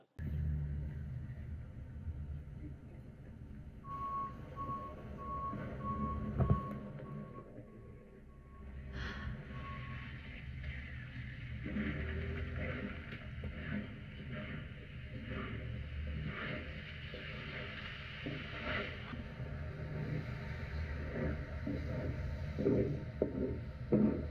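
Street traffic with passing cars and a truck, picked up through Nothing Ear (2) wireless earbuds outdoors: a steady low rumble of engines and tyres that swells and fades as vehicles go by, with a brief tonal beep early on.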